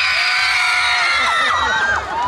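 Audience at an outdoor Korean song festival shouting and cheering for a singer, high-pitched squeals and whoops, many of them from girls, rising and falling over a brief burst.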